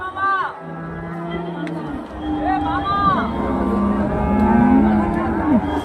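Cattle, including Jersey cows, lowing repeatedly at the Karimangalam cattle market in Dharmapuri district, several drawn-out moos near and farther off over a murmuring crowd and talking.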